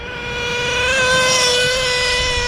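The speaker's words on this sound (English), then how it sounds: "I could do these speed runs all day long. These OS engines don't even care." A Traxxas Revo RC truck with an OS nitro engine screams past on a beach speed run, a loud high-pitched sustained whine that swells and fades slightly as it passes, with no talking.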